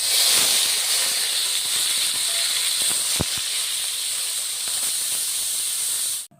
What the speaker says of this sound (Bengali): কড়াইয়ে অল্প কিছু গোটা জিরে দিয়ে পেঁয়াজ রসুন বাটা দিয়ে ভালো করে ভেজে নিব